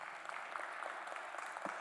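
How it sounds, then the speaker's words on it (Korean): An audience claps at an indoor gathering, a soft, steady patter of hands held at an even, fairly faint level throughout, with no voices over it. "박수 한번 좀 쳐주시겠습니까?"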